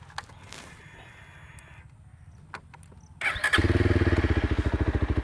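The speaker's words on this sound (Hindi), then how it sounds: "मेरी बाइक एक बार में स्टार्ट हो जाती है" A 2026 Yezdi Scrambler motorcycle sits quiet with faint background noise, then its engine catches about two-thirds through and settles into a loud, close, steady pulsing idle.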